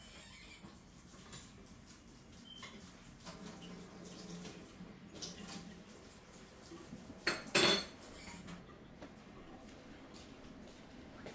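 A utensil scrapes and clinks in a large bowl while teriyaki beef and garlic are mixed, with soft stirring and one brief louder clatter near the end.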